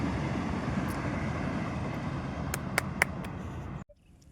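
A loud, continuous low rumble of a train passing close by, with a few sharp clanks near the end before it cuts off abruptly.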